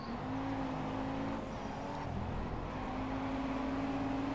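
Ford Focus RS racing in the video game Project Cars, a steady engine drone held at a fairly constant pitch with a brief shift midway, loud and continuous with no talk over it.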